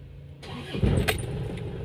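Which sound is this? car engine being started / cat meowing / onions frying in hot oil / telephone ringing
car engine being started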